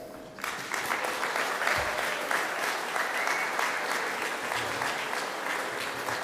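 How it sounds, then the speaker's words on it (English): Graduates at a Faculty of Science and Technology graduation ceremony stand and applaud their families, a steady roomful of clapping that starts abruptly and holds for several seconds. "And you applaud them."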